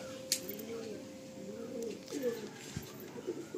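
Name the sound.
pigeons cooing in a pigeon loft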